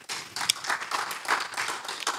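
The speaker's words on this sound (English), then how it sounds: "let's give God another hand clap of praise" A congregation at a Sunday church service claps hands in praise to God, a dense, moderately loud patter of many hands with scattered sharper claps, lasting the whole moment with no talking.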